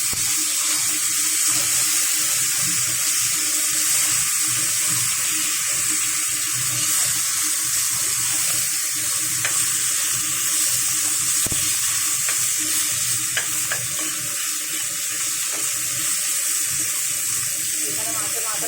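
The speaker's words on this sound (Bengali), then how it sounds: "এরকম করে নাড়াচাড়া করে বেশ সুন্দর করে ভেজে নিচ্ছি।" A rohu fish head fries in a pan with a steady, loud, continuous sizzle and crackle throughout, close by and with no talking over it.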